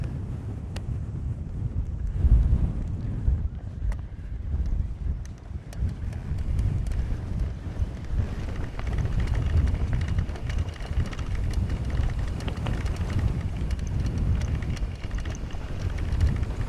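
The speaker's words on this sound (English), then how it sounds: "The wind's fairly bad though." Gusty wind buffets the microphone during an eBike mountain bike ride on the Creag Meagaidh circuit at Loch Laggan in Scotland, a loud rumbling roar with occasional clicks and knocks from the trail, steady throughout.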